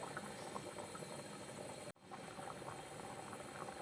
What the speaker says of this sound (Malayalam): നമ്മുടെ പൊട്ടാറ്റോ ഒക്കെ വെള്ളത്തിൽ കിടന്ന് നന്നായിട്ട് വെന്ത് വരുന്നുണ്ട്.